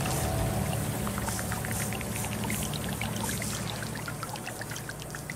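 Trickling, pouring water as a river is laid down in the game Terra Nil, a steady continuous flow with scattered droplet plinks, fairly close and alone throughout.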